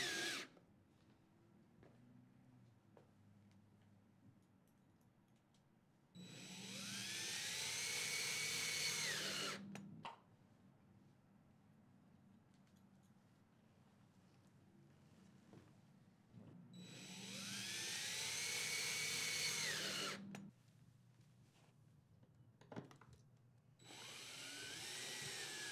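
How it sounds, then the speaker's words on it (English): A power drill with a Robertson bit drives 5/8 panhead wood screws into an aluminum beam support for a Murphy bed cabinet, sounding as three close, loud whirring bursts of several seconds each, separated by quiet handling noises. "Using your power drill and Robertson drill bit, install 5 of the 5/8 panhead Robertson wood screws into the holes along the aluminum"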